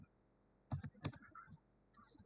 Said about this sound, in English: now you're going to type in this one, Shayla's